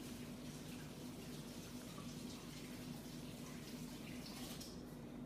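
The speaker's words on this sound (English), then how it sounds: "you're going to wash your hands with hot soapy water" Running tap water pours steadily into a kitchen sink while hands are washed with hot soapy water, a faint continuous hiss and splash with no talk.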